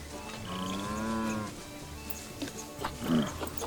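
A baby goat in the Planet Zoo zoo-building game gives a drawn-out bleating call, followed by softer grunts and a second short cry, over a steady background of ambient animal and park noise.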